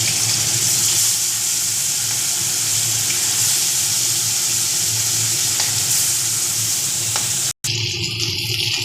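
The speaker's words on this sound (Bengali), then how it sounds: "দেখুন আমার মাছগুলো ভাজা হয়ে যাচ্ছে।" Kali baus fish pieces fry in very hot oil in a wok, making a loud, steady, dense sizzle close up that breaks off for an instant near the end before carrying on.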